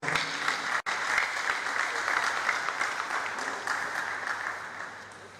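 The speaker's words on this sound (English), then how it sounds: "Please, let's give a round of applause for me." Steady audience applause at a pest control association seminar panel session, a full room of clapping hands at an even level throughout, with a single sharp click near the start.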